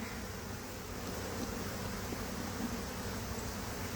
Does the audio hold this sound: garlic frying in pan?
no